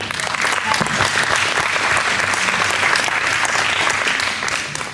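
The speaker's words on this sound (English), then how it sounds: "Let's give them a round of applause for a job well done." Audience applause at a Christmas play at a Christian school for the winning Team Grease, a dense, steady wash of many hands clapping, loud and close, lasting the whole stretch before tapering slightly at the end.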